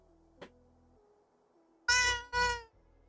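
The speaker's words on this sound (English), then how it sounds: "Let me see if she will meow. Sometimes she meows when I carry her." A cat meows while being carried, two drawn-out, fairly loud meows in close succession following a soft thump and quiet handling noise.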